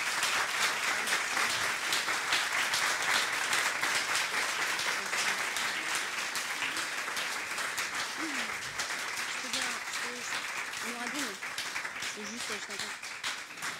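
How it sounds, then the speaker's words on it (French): Sustained applause from a conference audience, a dense, even roar of many clapping hands that fills the room throughout, with a few faint voices murmuring underneath toward the end. "Merci, on peut l'applaudir."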